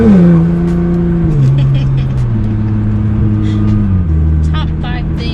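A 600 WHP R35 Nissan GT-R engine drones loudly from inside the car, its pitch dropping in steps as it shifts through gears, with voices faintly audible.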